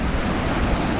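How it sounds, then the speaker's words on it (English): Large ocean surf swells breaking near a beach, heard from a trawler as a steady, dense roar of water mixed with wind buffeting the microphone, loud and close for a brief moment. "Wow, look at the size of those waves."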